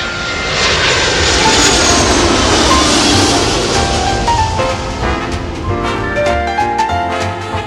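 A plane's engines run steadily as it prepares for takeoff, a loud continuous roar that holds for several seconds, with faint rising whine and clicks near the end.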